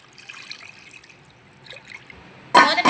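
Cornflour mixture is poured into sugar water for Bombay Karachi halwa, a faint trickle that ends in a louder, close splashing pour.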